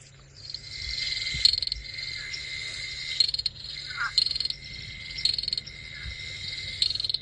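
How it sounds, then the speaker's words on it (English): Recorded call of a golden leaf-folding frog, Afrixalus aureus, played back from a phone app: repeated high, insect-like clicking trills in regular bursts, fairly faint over a low background hum, without speech. "I've forgotten what a golden leaf folding frog sounds like"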